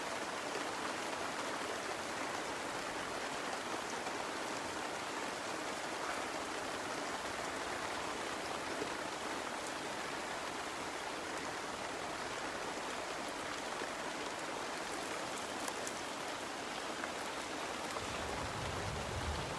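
Steady rain falling in the hills of southern Thailand, a constant broadband hiss of drops on the surface that holds evenly throughout, with no voices.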